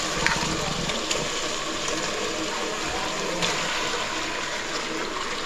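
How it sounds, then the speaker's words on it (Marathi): Water pours steadily into a pot of chicken for an Alibaug-style chicken rassa, a continuous gushing splash that holds at an even level throughout with no talk over it. "आणि आता आपण पाणी टाकणार आहोत."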